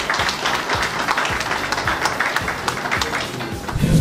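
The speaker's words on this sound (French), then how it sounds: "Ça mérite des applaudissements s'il vous plaît." An audience at an evening gathering with invited guests breaks into steady, dense applause, a continuous wash of many hands clapping close by that holds for several seconds and swells slightly at the end.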